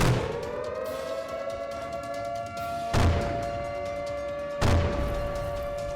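A civil defense air raid siren wails in sustained, rising tones, punctuated by two heavy booms like anti-aircraft fire. No voices are present.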